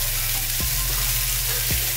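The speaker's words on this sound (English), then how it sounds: "I want to cook these burgers for a while because don't forget there's shrimp on the inside." Shrimp-stuffed cheeseburgers sizzling in a pan, a loud, dense, steady fry with a couple of brief low knocks, close and continuous without any voices.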